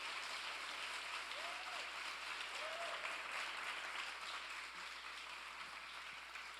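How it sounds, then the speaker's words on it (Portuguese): Faint, distant applause from a church congregation, a soft continuous patter of clapping under room hum, with a couple of brief voice-like tones. "dê um aplauso ao Senhor"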